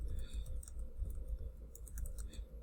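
Light clicking of a computer keyboard as a keyword is typed into a photo post, soft irregular taps over a steady background hum.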